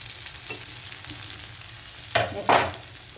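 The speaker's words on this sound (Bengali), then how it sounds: "আমাদের ছোটো মাছ কষানোটা কমপ্লিট।" Small fish frying in a pan with red chili and coriander powder for a curry, a soft steady sizzle with a few louder stirring scrapes near the end, close up and with no voices.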